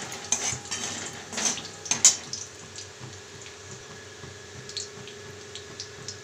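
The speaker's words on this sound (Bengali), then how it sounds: "পরিমাণ মতন কালো জিরে দিলাম। এটা ভেজে নেব।" Black cumin seeds fry with chillies in a pan, a faint sizzle under sharp metallic clinks of a spoon stirring against the pan, close and intermittent, without speech.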